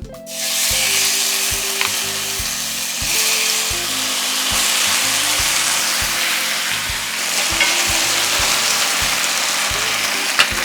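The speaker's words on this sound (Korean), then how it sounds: "여기에 김치를 넣어서 볶아주세요." Kimchi stir-fries in a spoonful of lard in a pan, a steady loud sizzle with repeated scraping stirs and clacks of a utensil against the pan, no voices.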